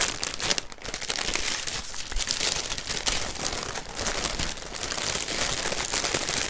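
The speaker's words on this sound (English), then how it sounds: "Sorry for the crinkling." Continuous close crinkling and crunching of the cellophane wrapping on a basket of prizes, steady rustling for several seconds with no talk.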